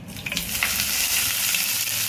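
Garlic goes into hot white oil with dried red chillies and sizzles, a close, loud, continuous hiss with a brief splatter as it lands, with no talk.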